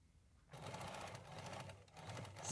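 A sewing machine stitches a fabric shopping bag, its motor starting abruptly and then whirring steadily in a fast rhythmic run. The sound is close but faint.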